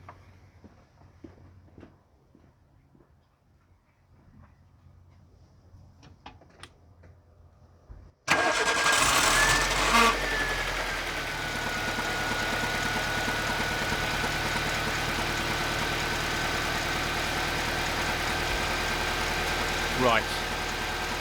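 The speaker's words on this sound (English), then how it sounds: "Now when we start the engine, that should increase quite a bit" A Nissan Micra K11 engine with alternator and electrical faults cranks and catches after a quiet stretch, then settles into a steady, fairly loud idle with a faint whine and a brief rev near the end.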